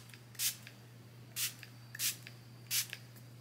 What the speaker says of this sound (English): Going to spray some of that sleep pillow and body mist.